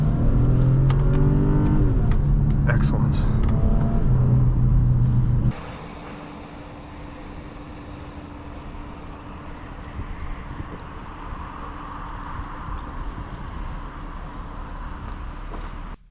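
A 2012 Audi A7 3.0T Quattro engine hums loudly and steadily, then drops to a quieter, even rumble of driving for the rest of the clip, with a brief spoken word early on.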